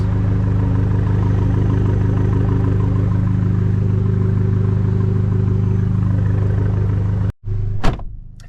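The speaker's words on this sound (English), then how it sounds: "This is the normal idle," An Abarth 595 at normal warm idle gives a loud, steady, low burbling engine rumble, close up and unbroken, ending in a brief dropout and a short whoosh.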